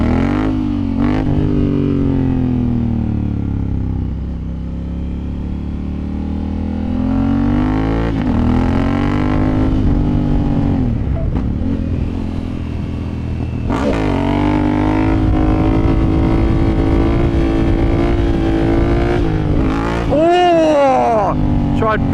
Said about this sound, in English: Hit that rev range right in the sweet spot